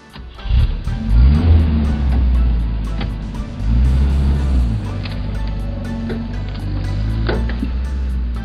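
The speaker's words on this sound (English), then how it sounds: "Fire department vehicle." A fire department vehicle's engine rumbles and revs close by, with a deep continuous drone that swells and eases a few times across the stretch.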